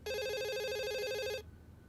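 A landline telephone bell rings once, loud and close, in a sustained electronic trill lasting over a second before cutting off into quiet room tone.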